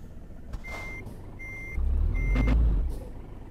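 Truck in Euro Truck Simulator 2 reversing, with steady electronic backup beeps repeating at intervals over a low engine rumble that swells louder midway, with no talking.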